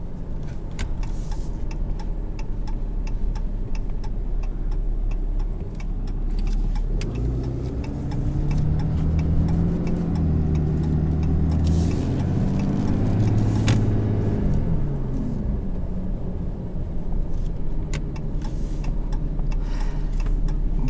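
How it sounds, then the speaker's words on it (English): A 2017 Ram 3500 Tradesman diesel pickup with its exhaust brake engaged gives a steady low engine drone from inside the cab, rising into a deeper, throatier rumble through the middle before easing back, with faint ticking over it. "You can hear I have the exhaust brake active."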